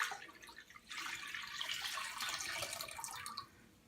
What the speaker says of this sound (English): put the 2 cups of water in the mixer